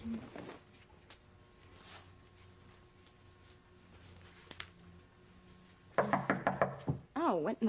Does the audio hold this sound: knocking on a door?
yes